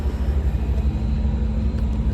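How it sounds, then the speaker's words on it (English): A truck pulls up at the load lines of a work site, a steady low rumble of its engine idling close by with no other clear sounds. "The truck just pulled up."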